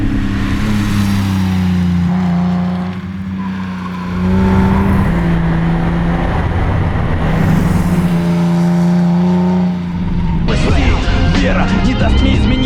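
A BMW E30 lapping a test track at speed, with either a V8 or an S50 engine, gives a steady, loud engine drone that rises and falls, then turns harsher and brighter near the end.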